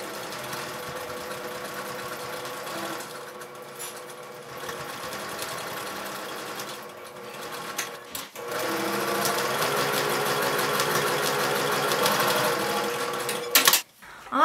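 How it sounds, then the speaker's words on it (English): A sewing machine top-stitches bag straps in long runs of rapid, even mechanical whirring, pausing briefly midway before resuming louder and stopping near the end. "I'm just going to use some Wonder Clips and hold it as I sew."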